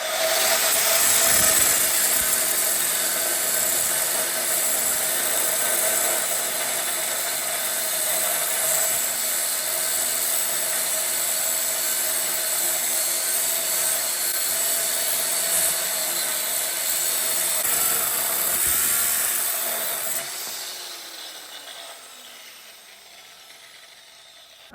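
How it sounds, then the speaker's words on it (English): A 9-inch angle grinder cuts across the steel frame of a Lemken plough, a loud, continuous high whining roar that runs steadily for about twenty seconds and then winds down as the disc spins to a stop, with no talking. "I think I'll just cut across there with a 9-inch grinder, get rid of that bit"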